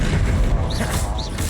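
A deep rumbling blast from the Confringo explosion spell in the video game Hogwarts Legacy, heavy low-end boom filling the short moment alongside faint whooshing spell effects.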